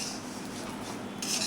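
A utensil scraping and clinking in a pan while salt is stirred into frying okra masala, soft close metallic scrapes with a brighter clatter at the end, quiet and without voices.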